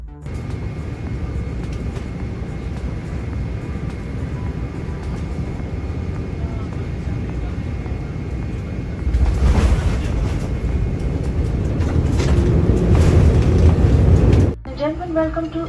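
An Air India Boeing 787 Dreamliner lands at Delhi airport, heard from the cabin as a steady low engine and airframe rumble that swells into louder roaring and rattling touchdown noise before dropping off near the end.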